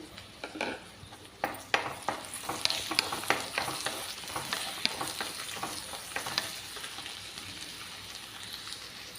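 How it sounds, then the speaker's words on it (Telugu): Cut green chillies hitting hot oil in a pan for okra fry, a dense crackling sizzle with sharp spattering pops and occasional stirring clatter, steady and close throughout with no talk. "ఇందులో కట్ చేసుకున్న గ్రీన్ చిల్లీ కూడా వేసేసుకోవాలండి"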